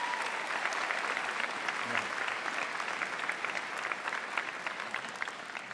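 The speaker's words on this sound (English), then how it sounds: "So we need a big round of applause for all of you for that" A convocation audience at a June morning graduation ceremony applauds steadily, a dense wash of many hands clapping that holds at an even, fairly soft level throughout, with no voices rising above it.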